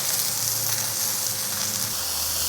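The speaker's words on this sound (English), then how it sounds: "And we are searing it now." A roast sears in a hot pan, a continuous close sizzle that holds steady for the whole stretch, with a low hum underneath and no speech.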